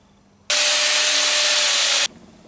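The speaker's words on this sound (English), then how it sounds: "there's a little bit of splatter, and I'm going to use my Arty mini grinder" A small handheld mini grinder buzzes loudly and steadily for about a second and a half, removing weld spatter from a bent industrial metal sculpture, with abrupt start and stop and no speech.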